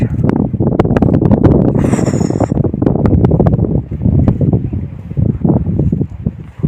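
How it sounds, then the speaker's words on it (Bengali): Strong wind blows across the middle of the Padma river on a cycling trip toward Shilaidaha ghat, roaring and buffeting the microphone in loud, continuous gusts with no break. "প্রচন্ড বাতাস।"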